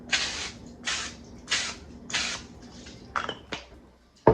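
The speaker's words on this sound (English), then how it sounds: "We're gonna spray each one a little bit with some cooking spray." Several short hissing bursts of cooking spray onto cupcake liners, evenly spaced, followed by a couple of light clicks and taps.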